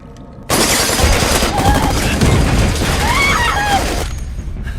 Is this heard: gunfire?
yes